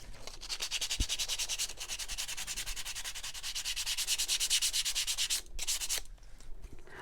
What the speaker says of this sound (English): Sanding in the same direction as the way I painted my distressing.